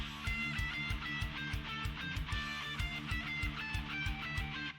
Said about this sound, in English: And I have this sort of guitar lead to go over that.